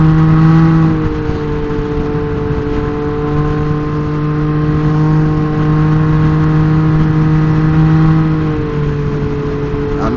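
A Can-Am Ryker 900 three-wheeled motorcycle with modified intake and exhaust idles and revs, a loud close steady engine drone that rises slightly in pitch near the start and again toward the end.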